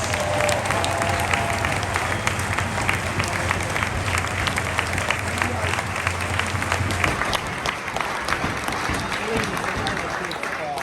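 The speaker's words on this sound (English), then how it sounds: "Please give a huge round of applause" Loud sustained crowd applause at an after-match celebration for a rugby league team, dense clapping with some cheering and voices in the crowd throughout.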